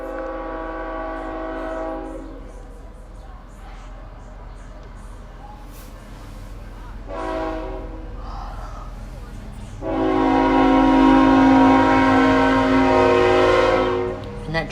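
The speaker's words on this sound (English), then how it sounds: "Can that train not be any louder?" A train rolls past with a steady rumble and faint intermittent voices, then a long, loud, tonal horn blast sounds close by near the end and fades out.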